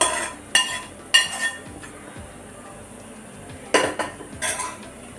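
Wheat puttu flour being mixed by hand in a metal vessel with tempered coconut and onion. A few sharp clinks and knocks stand out over quiet background rustling, close by, with no speech.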